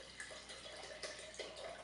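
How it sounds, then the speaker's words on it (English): Red Bordeaux wine, a 1996 Chateau Lynch Bages, is poured from the bottle into a Riedel Sommelier Series Bordeaux glass, a faint, steady trickling splash with small gurgles, quiet and close. "pour myself a hefty glass"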